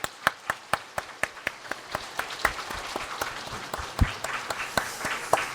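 A church congregation claps during a Christmas Sunday service, sharp individual claps at first that quickly thicken into steady, fairly loud applause lasting several seconds.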